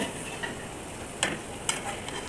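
Fried fish pieces go into a sizzling tomato gravy in village-style cooking, a constant close hiss broken by two sharp splashing crackles as pieces drop in.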